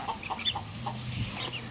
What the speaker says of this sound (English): The big chickens inside there.